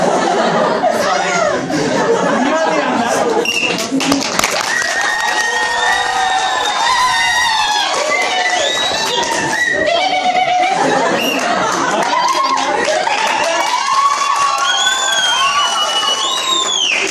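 Audience at an improvised stage comedy performance screams and cheers loudly and continuously, a dense crowd roar with shrieks and shouts throughout.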